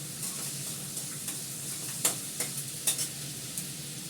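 Large pieces of eggplant frying in a pan with whole spices: a low steady sizzle, then a few sharp spatula scrapes and taps in the second half, heard close with no voices.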